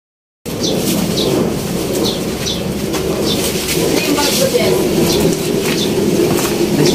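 Pigeons cooing and flapping their wings in a provincial setting in Taguig City, a steady, dense layer of bird calls with repeated coos and wingbeats, mixed with broadband background noise throughout.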